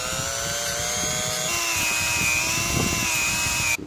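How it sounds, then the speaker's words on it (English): A mini grinder with a Scotch-Brite wheel buffs the inside of a brake cylinder with metal polish, giving a loud, steady high whine that shifts pitch partway through and cuts off near the end. "I'll buff the inside of the cylinder with some metal polish and this mini grinder with this sort of Scotch-Brite"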